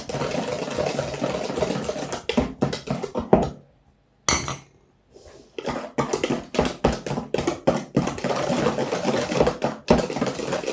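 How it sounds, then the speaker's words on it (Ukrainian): Chocolate cake batter being whisked by hand in a bowl, a loud rapid rhythmic scraping and tapping that stops briefly midway before resuming at a steady pace, close up. "Я візьму зараз вінчиком, буде краще розмішатися."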